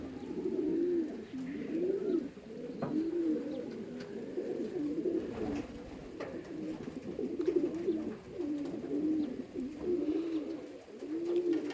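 A young racing pigeon coos close by in repeated low, rolling bursts, steady and continuous, with no talk.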